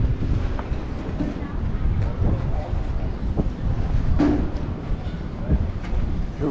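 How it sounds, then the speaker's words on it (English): Steady wind rushing and buffeting across the microphone in San Francisco, a low continuous roar with faint traffic and street sounds underneath. "It's been pretty windy last couple of days."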